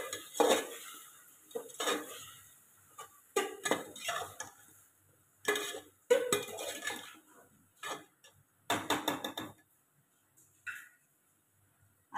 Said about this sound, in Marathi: आता हे सगळं आपण परतवून घेऊ।